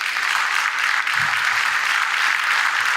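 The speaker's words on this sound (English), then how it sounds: "A round of applause." Conference audience applause at a Middle East vegetarian congress: a dense, even wash of many hands clapping, steady and fairly loud for three seconds, with no talk on top.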